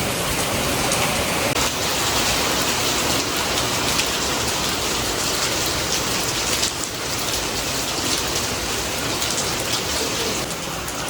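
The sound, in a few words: heavy rain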